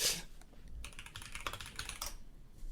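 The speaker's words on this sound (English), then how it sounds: "Oh, what a nice sounding keyboard." Keys clatter on a new computer keyboard in quick, uneven bursts of close, crisp clicks, with no voices over the typing.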